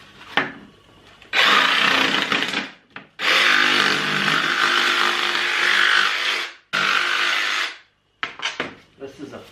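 Corners being trimmed off a piece so it fits inside a tire, heard as loud rasping saw-like cutting in several sustained bursts with short gaps and a few quick scrapes at the end.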